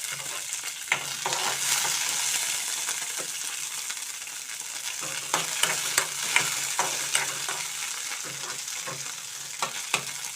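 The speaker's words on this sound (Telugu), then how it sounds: "పచ్చిమిర్చి ఇలా ముక్కలుగా కట్ చేసుకుని వేయించుకుంటున్నాను" Chopped green chillies frying in a spoonful of oil in a kadai over a low flame, a soft continuous sizzle broken by repeated scraping stirs from a spoon, close up and without speech.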